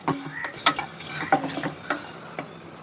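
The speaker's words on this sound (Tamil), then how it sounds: "ரொம்ப தீய வைக்காமல் பொன்னீரமாக வறுத்தெடுப்போம்" Food frying in a pan for chicken mandi biryani, stirred now and then: a soft steady sizzle with several sharp scraping clinks of a spoon against the pan at irregular intervals, close up and alone.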